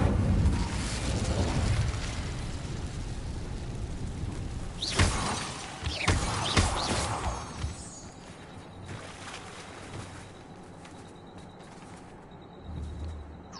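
Incendio fire spell bursting in Hogwarts Legacy, a loud crackling, shattering blast with a whooshing tail, rising over steady game ambience and followed by further bursts.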